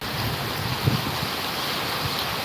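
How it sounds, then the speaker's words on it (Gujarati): Heavy pouring rain during a storm in Amreli, a dense, steady roar of downpour that stays constant throughout, close and loud, with no voices. "ધોધ માર વરસાદ છે ભાઈ જો"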